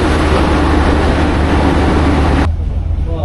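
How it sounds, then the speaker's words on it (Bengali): Borendro Express passenger train pulling out of Saidpur station on its Chilahati to Rajshahi run, a steady loud low rumble and broadband roar that suddenly drops to a quieter hum near the end. "সৈয়দপুর স্টেশন থেকে আমাদের ট্রেন ছেড়ে দিল"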